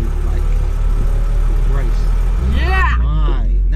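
Aston Martin James Bond car driving along with no power steering, its engine a steady low drone throughout, with people talking inside the car over it.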